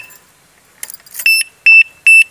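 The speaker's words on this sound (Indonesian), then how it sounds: "kalau udah ada bunyi bip bip bip 3 kali kayak gitu, berarti itu sudah aktif ya" An alarm padlock arming itself gives three short, loud electronic beeps in an even rhythm, each a clear bright tone with some faint handling noise just before.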